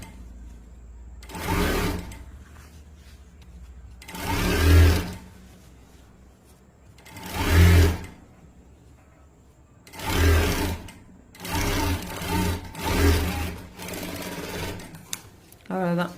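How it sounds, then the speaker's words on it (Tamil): A sewing machine stitches a garment sleeve in several short whirring bursts with pauses between them, close and fairly loud, and a person speaks quietly during the gaps. "அகைன் இந்த ஸ்லீவையும் இதே மாதிரி நம்ம ஸ்டிச் பண்ணிக்கலாம்."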